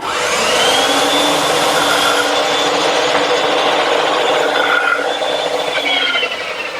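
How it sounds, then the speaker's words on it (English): A bandsaw nicks the ends of a wooden tenon in a woodworking shop, giving a steady, loud, close whirring cut that runs unbroken for several seconds and eases off slightly at the end. "Now the bandsaw is a good choice to remove the rest of the material to form the tenon."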